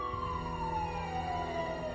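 A police siren wails steadily, its pitch sliding slowly downward, with traffic rumble underneath and no talking.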